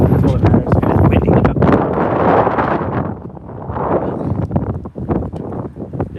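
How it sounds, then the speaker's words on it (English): Strong wind buffets the microphone in heavy, gusting roars throughout, close and loud, with scattered thumps. "And it's windy."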